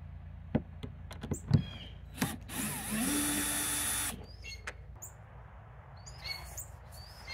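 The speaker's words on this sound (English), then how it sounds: "So I'm going to use a drill here on a low setting, take them all out." A power drill on a low setting backs screws out of a kayak gear track outdoors with short whirring bursts and one longer run, while birds chirp in the background.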